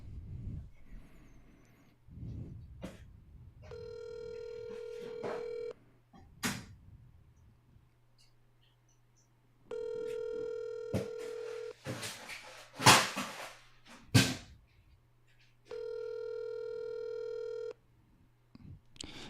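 A telephone call goes unanswered: short clicks and dial tones lead into three long electronic ringback tones spaced evenly, with handling bumps and knocks between them, no voice answering.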